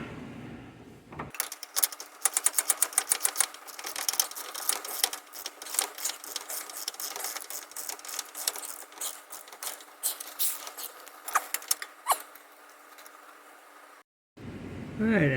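A ratchet clicks in rapid rhythmic runs while torquing down a track bar bolt on a 1986-2001 Jeep XJ Cherokee, the close metallic ticks coming in bursts separated by short pauses, with a soft voice briefly at the start and end.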